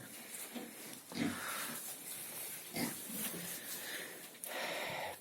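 Pigs and a sow feeding together on a farm, giving short bursts of close grunting and snorting over a continuous low rustle of eating.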